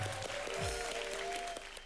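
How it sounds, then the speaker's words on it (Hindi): A studio audience on a Hindi TV comedy show claps in a brief, loud burst of applause that fades slightly toward the end. "सुपरस्टार जीतू जी के लिए जोरदार तालियां।"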